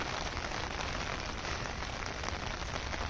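Heavy monsoon rain pours down outdoors in a dense, steady hiss of drops hitting surfaces. It is constant and loud throughout, with no voices.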